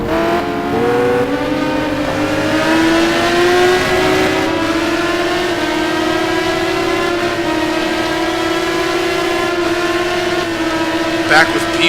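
Race cars in a racing video game engine drone at the Nurburgring, a steady loud pack of engines holding pitch as they race, with a faint voice underneath.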